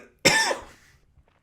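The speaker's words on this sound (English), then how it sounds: "that cough really fucked me up." A single loud, harsh human cough close to the mic, trailing off quickly, with a brief throat sound after a short pause.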